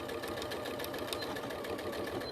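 A sewing machine back stitching a seam on a crazy patchwork piece, its needle running in a fast, steady mechanical rhythm, close and continuous with no pauses.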